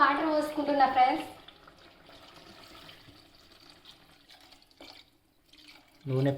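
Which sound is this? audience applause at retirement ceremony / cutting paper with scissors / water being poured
water being poured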